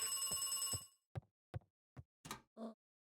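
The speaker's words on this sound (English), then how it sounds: "Phone noises." A phone rings in the video game Beacon Pines: a sustained electronic ringing tone for about a second, followed by several short separate blips and chirps of game phone noises, with no talking.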